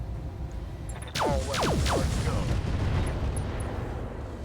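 Weapons fire from battle mechs firing at an Awesome mech in the RogueTech game: a quiet lead-in, then a sudden loud burst of several rapid descending energy shots and impacts that fade into a rumbling tail.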